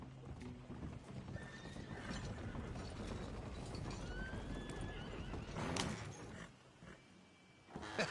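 In the Red Dead Redemption 2 game, a horse's hooves clip-clop steadily and it whinnies, with faint mechanical clicks and ratcheting in the background and a brief quieter stretch near the end.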